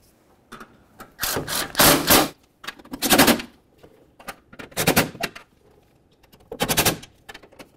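Bolts of 10 mm and 12 mm are run down on a 2006–2011 Honda Civic during fuel injector replacement. A power tool whirs in several separate rattling bursts of one to two seconds, close and loud, with quiet gaps and no talk.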